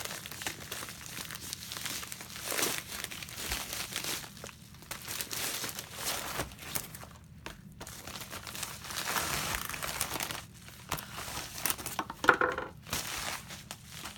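Soft crinkling and rustling come and go as a small flat-rate bubble envelope packed with craft supplies is unpacked, with faint tearing and handling noises, close and quiet.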